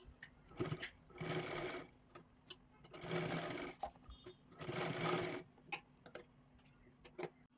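A sewing machine stitches a blouse in three loud, even runs of rapid whirring, each a second or two long, separated by short pauses filled with small clicks and handling taps.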